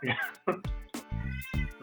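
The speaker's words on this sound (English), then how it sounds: "Somebody's cat is just angry today." An angry cat meows loudly and close in drawn-out, strained yowls, repeated several times in a row and rising into a caterwaul, with speech mixed in among the calls.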